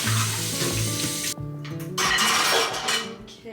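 Water runs from a kitchen tap into a sink during a quick cleanup while food is being prepped, a steady close splash with a brief break and a few faint clinks of dishes.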